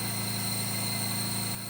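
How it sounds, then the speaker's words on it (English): A small air compressor runs to pressurize concrete lines, giving a steady mechanical hum with a rapid, even pulsing and high tonal whine, close and continuous before easing off briefly at the end. "we've got the air compressor charged up"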